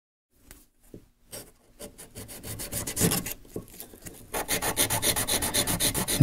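Wax carving tools for jewelry are rubbed together to restore their edges, producing scraping, rasping strokes that start sparse and grow into a fast, steady rhythm of close, dry rubs.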